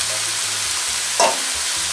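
Steady sizzle of spinach frying in a pan, with a brief louder burst as drained yuca is dropped in, then the frying hiss carrying on alone.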